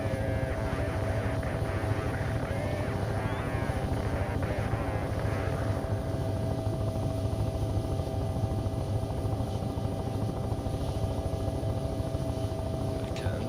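A helicopter engine and rotor in Take on Helicopters drone steadily with a dense, fast rhythmic chop, close and constant throughout, with a brief higher whine early on.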